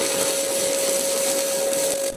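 Stick welding stainless steel with 308L-16 rod on a diamond-shaped piece, a steady loud crackling hiss of the arc with a constant tone running through it, close and alone.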